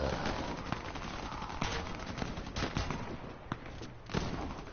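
Shotgun blasts and other gunfire in the video game Warface, loud repeated reports in a busy, continuous firefight with no pause.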